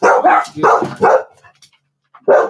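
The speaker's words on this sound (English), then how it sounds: "Kara, quit barking" A dog barks several times in quick succession, loud and close, followed by a pause and one more bark.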